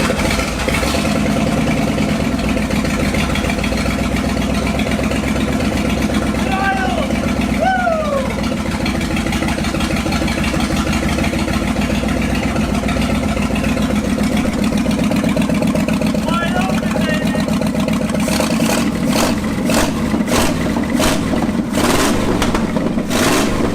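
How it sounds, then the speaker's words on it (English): A Ford F250 engine abandoned for 26 years runs steadily and loudly on its first start after a rebuild, droning with a rough continuous hum and slight revving, a voice briefly audible over it. "Let's see if this thing runs. Okay, here we go. First start and rebuild car."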